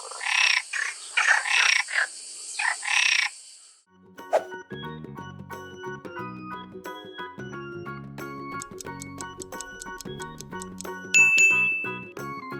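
A frog calls in a few rough, pulsing bursts at the start, then a brief silence gives way to a steady run of bright tinkling, ringing chirps that carry on to the end.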